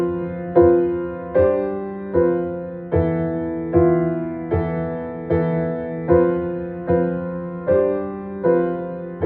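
Piano plays the third line of an accompaniment chord progression, a steady series of about a dozen sustained chords struck in an even rhythm, each decaying before the next, close and clear with no voice.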